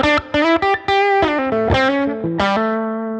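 Electric guitar played through a Helix amp model with a compressor added at the end of the chain and a little reverb, distorted chord and note stabs in a choppy rhythm, then a held chord ringing out and fading, close and clear.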